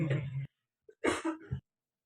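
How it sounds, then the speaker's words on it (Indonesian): A few coughs from a man teaching a religious class, a quick throaty burst followed by two shorter coughs close to the microphone, right after a stretch of his talking. "Batuk ya."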